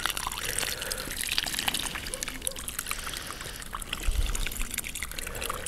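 Water pours and trickles into a planting hole for a transplanted conifer, a soft continuous gurgling and splashing at close range with a low thud partway through.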